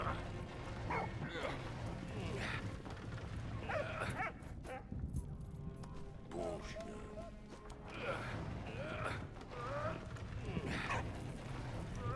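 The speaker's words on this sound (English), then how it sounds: "Okay, the dog is afraid of the fire." A dog in the World War I game Valiant Hearts: The Great War, frightened by fire, whimpers and yips in short repeated bursts over a steady rumbling game background, with a few louder barks mixed in.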